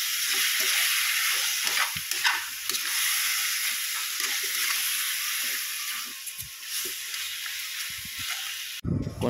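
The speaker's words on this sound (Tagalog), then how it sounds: "Habang ginigisa, igigisa ko lang to mga 15 minutes para lasang-lasa yung natin" Meat and chopped tomato sautéing in a pan for mung bean stew, a steady broadband sizzle with scattered crackles and occasional stirring scrapes throughout, close and fairly loud, ending with a brief clatter.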